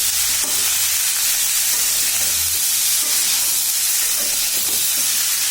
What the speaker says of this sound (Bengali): একটু নাড়তে হবে, ভাজা ভাজা করতে হবে।